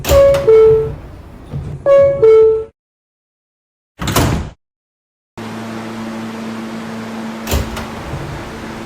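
R160B subway train on a New York line with door chime tones, a sharp thump of closing doors, then a steady rolling hum of the train pulling away, heard up close inside the car.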